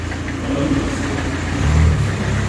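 A newly bought car's engine runs steadily, with a loud, continuous low rumble and a slight swell partway through. No one speaks.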